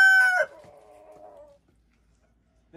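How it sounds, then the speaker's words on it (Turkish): A newly added rooster in a chicken coop gives a single loud, close crow that draws out and fades, followed by near silence and a brief noise at the very end. "Evet, yeni horozumuz bağırıyor."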